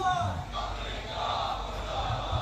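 Mixed crowd of voices rising together at a Muharram majlis gathering in an imambargah, a steady loud collective chant or slogan filling the hall for the whole moment without a break.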